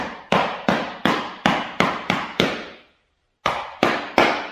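A hammer strikes a texturing stamp into wood to make grain, a run of sharp, ringing metallic blows at a steady pace, a short pause, then three more hits, loud and close.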